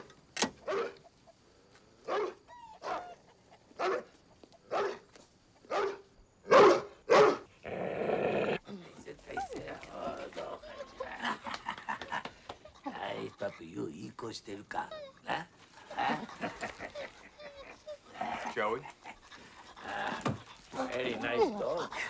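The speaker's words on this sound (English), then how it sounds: "That dog was about to attack me." A dog barks repeatedly in sharp, evenly spaced bursts, then growls and snarls under overlapping voices as people talk nearby.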